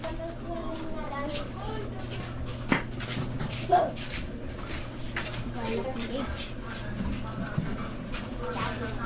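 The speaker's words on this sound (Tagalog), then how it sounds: "Yan, aso. mga aso dito." Dogs whimper and yip in a narrow slum alley in Novaliches, Quezon City, Philippines, amid outdoor background noise, with people talking nearby throughout.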